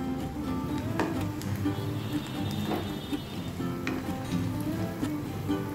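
Suji (semolina) snacks fry in hot oil with a steady, close crackling sizzle that keeps up without a break, the odd faint pop rising above it.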